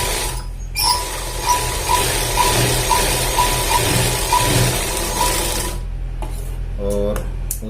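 Sewing machine stitching a back pocket on pants, a steady whirring run with a regular ticking pulse, then stopping near the end followed by a few clicks and handling noises.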